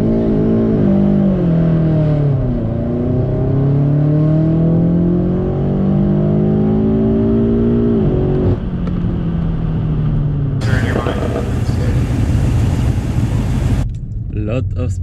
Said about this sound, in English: we got a couple of beamers on the starting line now